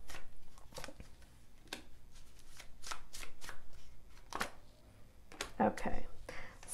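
Tarot cards from the Island Wellness deck being shuffled by hand, a series of crisp riffling bursts close up, with a quiet voice speaking at moments between them.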